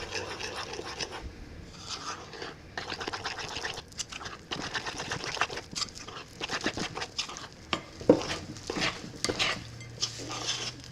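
Flour being stirred into sourdough tortilla dough in a bowl, a steady scraping, clinking rhythm of utensil against dish, close and continuous with small knocks.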